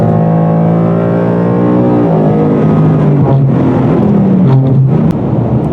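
A 2018 Ford Mustang GT accelerates hard on the highway, its loud engine rising in pitch through gear changes as the revs climb, close up and alone with no talk.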